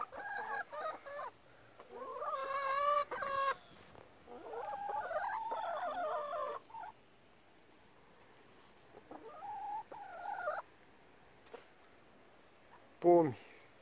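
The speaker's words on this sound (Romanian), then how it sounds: "Și acolo niște gâște." Geese honk in a rural farmyard at a family home in France, mixed with clucking chickens; several loud, harmonic calls come in bursts at moderate distance, with short gaps between them.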